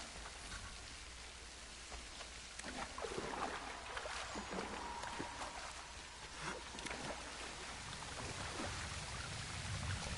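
Flowing water in the Assassin's Creed III Remastered video game, a steady rain-like splashing and trickling wash that runs continuously and fairly evenly throughout, with no talk over it.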